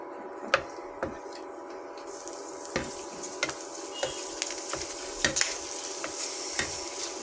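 Papad fries and puffs in hot oil with a soft continuous sizzle, punctuated by close, irregular ticks and taps from turning it in the pan.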